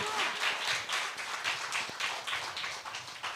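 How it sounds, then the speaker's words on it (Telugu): A church congregation claps loudly in a steady, fast rhythm, a dense wash of many hands close and continuous. "గట్టిగా చప్పట్లు కొట్టు"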